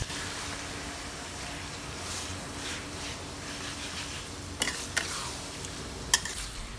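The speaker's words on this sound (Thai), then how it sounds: "ก็ใช้นะคะตะหลิวนะคะคนไปคนมานะคะเพื่อที่จะให้นะคะความร้อนเนี่ยทั่วถึงของหมูฝอยของเรานะคะ" Shredded pork floss frying in a pan and stirred with a spatula, a steady close sizzle with soft scraping strokes and a few sharp metal clinks near the end.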